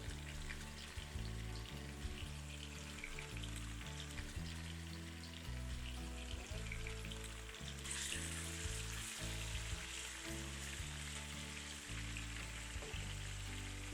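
Chicken pieces frying in oil in a pan for a spicy korma, a steady dense sizzle that brightens and grows busier partway through, with no voices over it.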